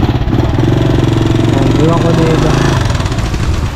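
A motorcycle engine runs at a steady, close idle with a pulsing low rumble throughout, while someone talks over it.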